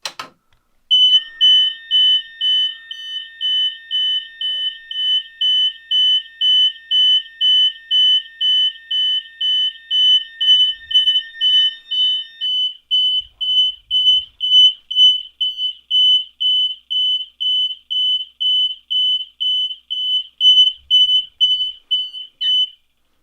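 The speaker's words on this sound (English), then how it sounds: "let's go ahead and give the MS-151 a pull here" A fire alarm system triggered from an MS-151 pull station, with a GX90 horn blaring a loud, rapid repeating tone in steady pulses that runs for over twenty seconds with no talking.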